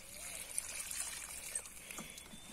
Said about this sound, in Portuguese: E aí joga uma água aqui também.